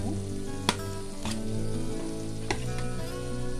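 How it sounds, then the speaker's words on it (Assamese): Paneer hits hot, oily frying masala and sizzles steadily throughout, with a few sharp clacks of a utensil against the pan as the pieces are stirred in, and no talking. "এতিয়া মই পনীৰখিনি ঢালি দিম।"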